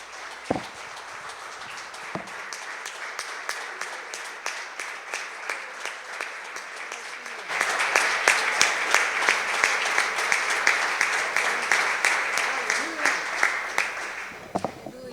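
A church congregation claps together in rhythm, the applause steady at first and then swelling louder halfway through as more hands join, with faint voices underneath.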